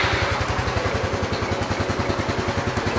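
A mother's stock motorcycle running with a steady, rapid low thumping idle rhythm, close and fairly loud, holding even throughout with no voices.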